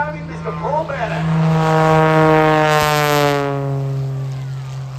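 A Cessna 185 Skywagon with a 400 hp Lycoming engine takes off at an air show, its propeller drone loud and close, swelling and holding steady as the plane passes, while an announcer's voice runs over it.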